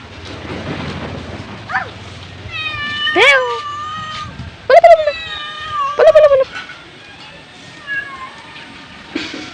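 A pet cat meows repeatedly at close range, several loud drawn-out cries spaced across the stretch, some rising into a wail, while someone talks softly in between and faint birdsong sounds outdoors.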